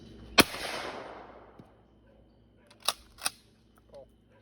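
A shotgun fires once at a clay target outdoors, a sharp loud crack with a decaying tail, followed a few seconds later by two fainter sharp clicks or cracks.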